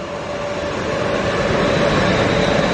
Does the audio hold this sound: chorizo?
no